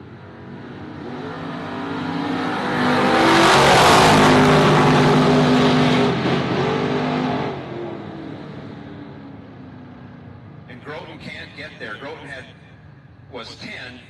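Drag racing cars, a GTO and a second-generation Camaro, roar off the line at a bracket racing strip, the engine noise building to a loud peak and then fading away, followed by a commentator talking.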